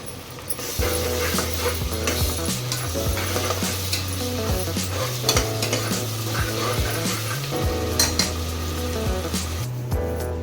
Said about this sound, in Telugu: మసాలా దినుసులు అన్నీ వేసుకుని వాటిని ఇందులో వేసుకుని బాగా వేగనివ్వాలి